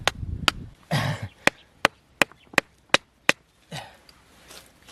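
Hard rock is chipped in an underground gold mine tunnel with a series of about nine sharp, loud strikes at an uneven pace, close and echoless, with brief scraping shuffles between them.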